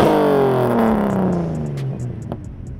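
A Datsun 280Z engine with a new exhaust revs and then winds down, its tone sliding lower as it fades to a rough idle with a few sharp clicks near the end.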